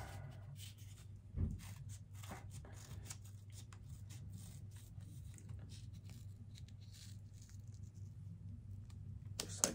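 Scissors snipping a shape out of Hy-Tape medical adhesive tape folded in half, a series of quiet, close crisp cuts and rustles over a low steady hum.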